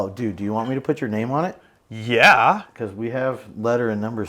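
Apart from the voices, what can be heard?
No everyday noises stand out.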